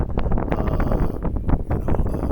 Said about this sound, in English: It's very windy, so hopefully you can hear me.